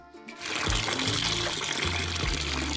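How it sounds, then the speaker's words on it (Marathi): Clean water pours and splashes continuously over raw chicken being washed for a wood-fire Khandeshi biryani, a close, loud, gushing sound. "आता आपण चिकन धुवून घेत आहोत."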